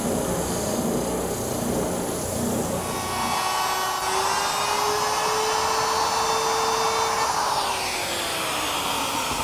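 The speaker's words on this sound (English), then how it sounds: "I'll cut that over at the bandsaw." A bandsaw whines steadily as it cuts an arch into an oak rail, the tone rising and holding when the blade engages the wood, then easing off near the end of the cut.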